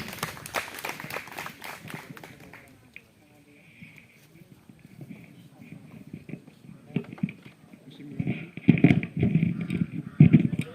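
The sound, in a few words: applause welcoming a speaker to the stage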